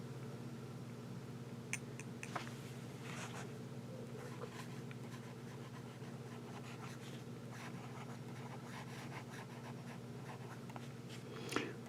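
A Lamy Safari fountain pen with a broad nib scratches across paper in a soft, continuous writing sound with faint strokes and taps over a low steady hum, close and quiet.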